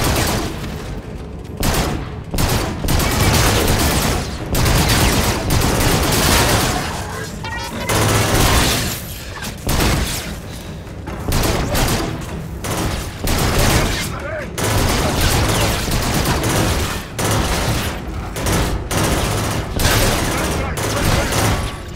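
Gunfire in the video game Infinite Warfare, with loud dense bursts of shots and booms going almost continuously, while voices talk over the battle.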